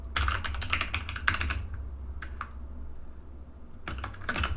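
Typing on a computer keyboard while building a WordPress theme, rapid bursts of clicky keystrokes with short pauses between them, close and clear over a steady low hum, no talking.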